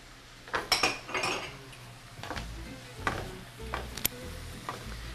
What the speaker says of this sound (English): we're just going to toss the meat around so that it's coated